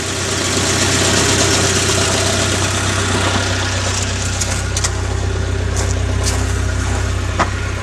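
A 1984 Nissan 200SX engine idles with a steady, low rumbling hum, close by and continuous, with a few faint clicks and knocks near the end.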